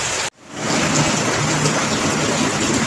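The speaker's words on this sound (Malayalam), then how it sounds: "പുറത്ത് നല്ല മഴ, പെരുമഴ." Heavy rain pours down outside alongside thunder, a loud, dense, steady roar after a brief cut at the start, with no voices.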